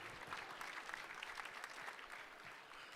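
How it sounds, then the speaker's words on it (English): Audience at a fundraising gala claps steadily, a dense crowd applause sustained evenly throughout at a moderate, somewhat distant level with no speech on top. "Give yourselves a big round of applause."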